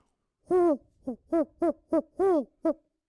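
A person's voice imitates an owl, giving seven hooting calls in an uneven series, some long and some clipped, close to the microphone in an otherwise quiet room.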